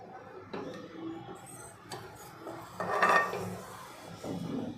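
A spoon scrapes and clinks against a pan while cooked vegetable filling with chopped coriander is stirred, giving soft irregular knocks close by with a few louder clatters.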